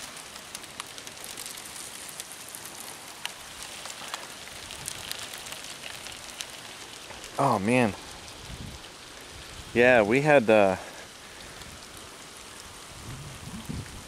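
Hail during a storm patters steadily and densely on surfaces outdoors, with two brief bursts of a voice partway through.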